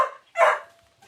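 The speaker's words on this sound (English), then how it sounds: "My dog's barking." A dog barks indoors in two short, loud bursts, close by and otherwise alone with no talking over it.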